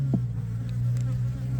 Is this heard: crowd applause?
no